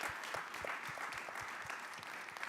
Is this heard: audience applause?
yes